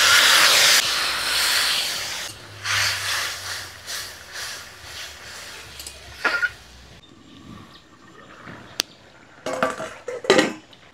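Water poured into a hot pan of red lentils hisses and steams loudly at first, then fades into softer bubbling with scattered clinks of pots and utensils.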